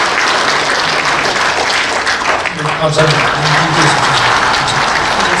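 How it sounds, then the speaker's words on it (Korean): An audience claps at a seminar in a Seoul press centre conference hall, a dense burst of applause that continues as someone briefly speaks over it. "일본 같지만 박수 한번 쳐줍시다"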